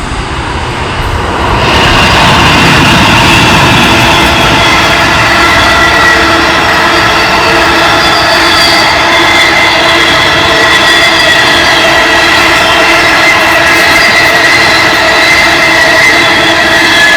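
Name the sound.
Great Southern passenger train passing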